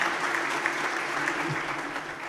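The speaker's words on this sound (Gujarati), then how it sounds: "જોરદાર તાળીથી" An audience applauds with sustained, dense clapping at a Gujarati community program in Surat, steady and fairly loud throughout without pause.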